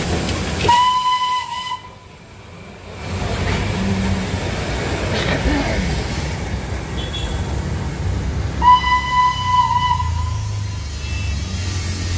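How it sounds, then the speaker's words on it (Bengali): Darjeeling toy train on its mountain line, a loud steam-style whistle blowing twice, near, with the rumble and clatter of the running train and rail cars filling the background throughout. "আর তার সাথে ঝিকঝিক ঝিকঝিক ঝিকঝিক ঝিকঝিক টয় ট্রেন"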